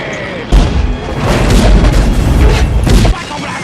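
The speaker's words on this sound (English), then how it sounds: "Michael Bay presents Explosions!" A loud, deep boom from an explosion in the film Alien 3 (1992) bursts in and rumbles heavily for a few seconds before cutting off abruptly.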